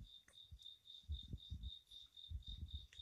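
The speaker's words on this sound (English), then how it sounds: "I have this very obnoxious cricket just at my front door, just being annoying, and it sounds like an alarm clock" A single cricket right at a front door chirps loudly in fast, evenly spaced pulses like an electronic alarm clock, with faint low background rumbles beneath.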